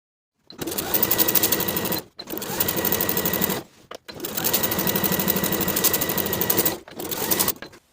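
A sewing machine stay stitches around the top edge of a jeans pant within the seam allowance, running in several close, loud bursts of rapid stitching separated by brief stops.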